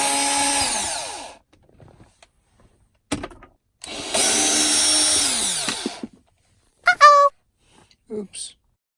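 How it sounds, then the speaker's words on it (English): Screws come out of a metal trim piece in a Tesla Model 3, driven by a T20 Torx power driver in two loud, close whirring bursts, with short clicks and brief voice sounds between them. "we're going to take this T20 Torx head screwdriver and take out the screws along this metal piece of trim"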